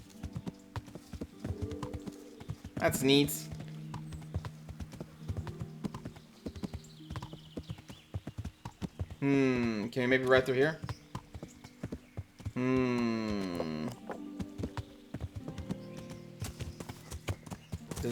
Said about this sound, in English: Hello, horse. I've been told a few times this is the horse of Alexander the Great.